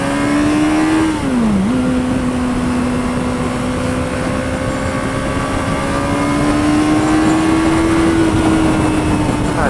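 Motor vehicles, likely motorcycles, on a road as a loud continuous engine drone close by with a steady pitch that dips briefly then slowly rises, heard with wind noise and no talking.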